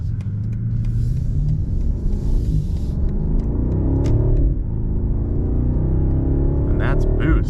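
A turbocharged BMW 760i engine revs up, its pitch climbing, dropping at a gear change around 4,500 RPM, then rising again over a steady road rumble.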